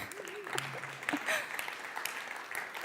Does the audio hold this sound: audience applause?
yes